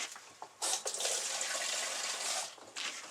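Water runs from a tap for a deer or elk antler repair, a close, steady hiss of flowing water that starts abruptly, holds for about two seconds, then briefly cuts and resumes.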